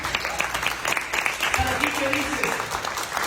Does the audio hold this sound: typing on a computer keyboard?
no